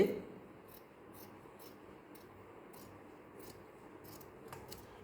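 Scissors cutting through folded fabric in a tailoring setting, a series of short, faint snips and crisp rasps spread across a quiet background.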